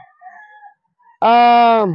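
A chicken gives one loud, drawn-out call up close after a brief pause, following a few faint, thin sounds at the start.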